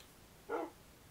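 A single short dog bark or yip, fairly close but not loud, standing alone against a quiet background.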